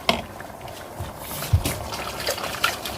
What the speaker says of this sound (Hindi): अब हम इसमें डाल देंगे टमाटर